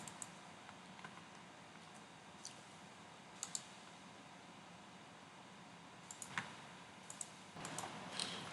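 A computer mouse gives a few faint, sparse clicks, single and in quick pairs, over a quiet background hiss with no talking.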